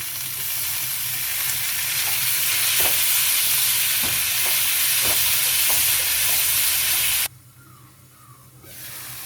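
Tomatoes dropped into a hot pan of sizzling tempering for a bottle gourd and groundnut curry, a loud steady frying hiss with stirring clicks that cuts off abruptly near the end, leaving quieter low sizzle.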